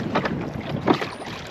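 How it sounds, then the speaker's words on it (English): Oars work a small rented rowboat across a lake in Slovenia, a few soft splashing strokes against light wind noise. "Testing Ryan's rowing skills"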